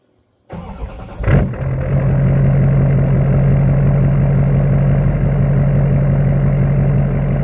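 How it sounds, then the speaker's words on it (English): A truck engine cranks briefly, catches with a loud burst, then settles into a steady, deep idle that rumbles on close and alone. "I love the sound of this truck."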